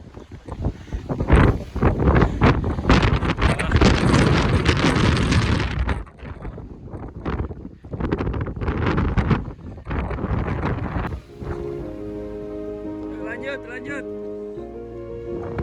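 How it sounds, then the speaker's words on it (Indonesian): Strong wind gusting on Mount Bawakaraeng, loud, roaring buffets against the microphone over the first several seconds, easing into quieter gusts, with people talking briefly near the end. "Luar biasa pasang anginnya"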